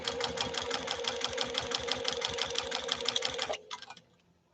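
A JUKI TL 2020 PE sewing machine runs a long stitch in a steady, rapid mechanical chatter close by, then slows and stops with a few final clicks.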